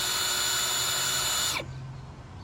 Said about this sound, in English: Andy's gonna start drilling holes in the corners